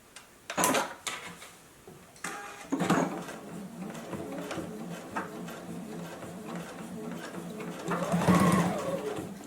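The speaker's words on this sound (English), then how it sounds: "And sew over those pleats." A JUKI sewing machine top-stitches over the pleats of a face mask, its needle running in a steady, close mechanical whir with bursts of faster stitching and a few clicks and handling knocks.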